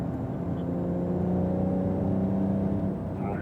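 A Porsche Carrera GTS accelerates on a wet race track, its engine drone rising steadily in pitch with layered harmonic tones, heard from inside the car at moderate level with no talking.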